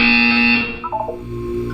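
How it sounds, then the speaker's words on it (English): Electronic buzzer tone inside an Aperture Science test chamber in Portal 2, a steady loud drone that cuts out partway, followed by a brief warbling electronic flourish and a low hum. "You will hear a buzzer."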